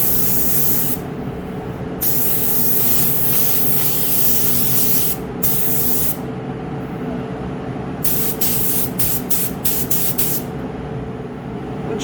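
Base coat sprayed onto car parts from a spray gun or aerosol can, a steady loud hissing spray running almost continuously, broken by a few short pauses and quick bursts of stop-start spraying.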